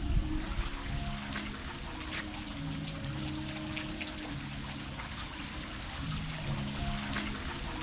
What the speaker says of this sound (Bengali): ঝর্ণার পানির সাউন্ডটা আসলে মনোমুগ্ধকর।